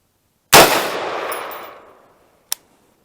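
A single loud, sharp AR-15 rifle shot fired outdoors rings out with a long decaying echo tail, followed about two seconds later by a brief, crisp metallic click.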